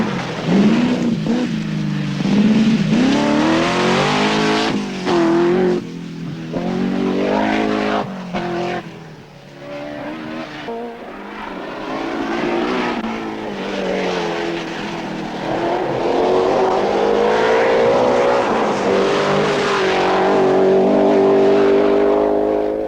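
A Triumph TR7 V8 rally car roars along a stage, its engine revving up and down through repeated gear changes, loud and close with brief dips as it backs off the throttle.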